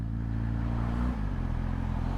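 Honda Hornet 1000 SP motorcycle on its stock exhaust, a steady, fairly quiet engine drone with a slight dip in pitch midway as the revs shift.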